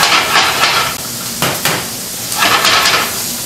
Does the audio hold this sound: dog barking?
no